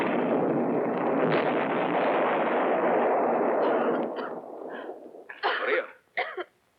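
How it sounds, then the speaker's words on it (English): Rumbling blasts echo through a cave, a long roaring boom that slowly decays, followed by several sharper bursts and bangs near the end. "I'm scared of explosions."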